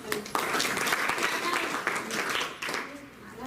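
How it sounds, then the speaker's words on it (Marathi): An audience at a gathering welcoming women's births claps for the organiser, a dense burst of applause that swells and holds for a few seconds, with voices mixed in. "आजच्या कार्यक्रमाचे आयोजकाची भूमिका निभावणाऱ्या डॉक्टर कविताताई यांच्यासाठी आपण जोरदार टाळ्या वाजवा"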